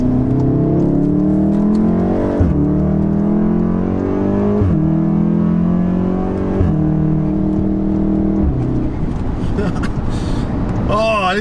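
A 600 BHP meth-injected VW Golf R pulls hard through the gears, engine note climbing steadily with sharp drops at each of three quick shifts, loud and close from inside the cabin with the roar continuous throughout.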